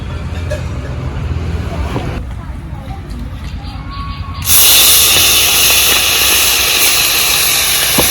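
A quiet background gives way midway to a sudden loud, steady sizzling hiss of khalse fish frying in hot oil in a wok, which continues to the end.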